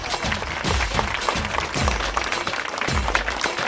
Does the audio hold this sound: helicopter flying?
no